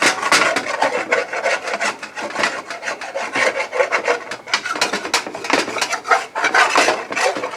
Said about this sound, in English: we're melting this butter in here, trying to get some of that lovely taco flavoring off of that bottom of the skillet